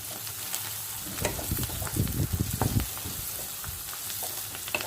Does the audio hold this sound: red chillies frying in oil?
yes